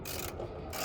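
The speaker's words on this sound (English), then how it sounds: "We're gonna go back to the socket wrench. I'm tightening it" Socket wrench ratcheting while tightening a spark plug on a kei car engine, a steady run of close, dense clicking with a brief change in texture partway through.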